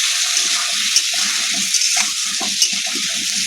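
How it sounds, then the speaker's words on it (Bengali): Potatoes fry in hot oil with salt and turmeric, giving a loud, steady sizzling hiss broken by occasional light clicks of stirring. "আলুটা ভালো করে ভেজে নেব"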